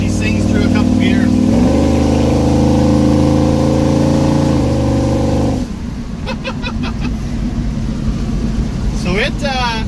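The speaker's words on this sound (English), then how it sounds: "let's let them hear it as she sings through a couple gears" A 1971 Chevy C10 pickup engine revs loud and close as it pulls through a couple of gears, its steady drone shifting in tone partway through, with a brief voice near the end.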